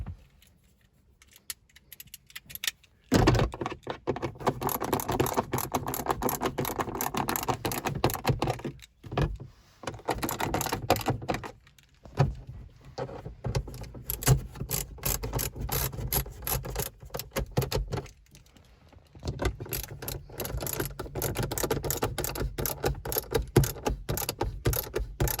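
Screws being tightened on the front interior roof light of an MK7 VW Golf, a long run of rapid ratcheting clicks and mechanical whirring in close bursts, broken by short pauses.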